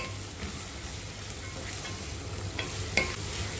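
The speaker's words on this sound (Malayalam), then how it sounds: "അതിനൊപ്പം തന്നെ കാബേജും ചേർത്ത് കൊടുക്കുക. ചെറിയ കഷ്ണങ്ങളായിട്ട് വേണം ക്യാരറ്റ് കട്ട് ചെയ്തെടുക്കാൻ. നന്നായി വാട്ടിയെടുക്കാം." Cabbage and carrot pieces sauté in a pan with a steady, soft sizzle and faint stirring scrapes. The sound is close but quiet, with a small clink near the end.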